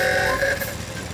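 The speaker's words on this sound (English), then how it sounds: "Grandpa Pig is driving his motor mower over to Peppa's house." A cartoon motor mower engine drives along with a steady humming drone and a tonal whine, continuous and fairly close, with no voices over it.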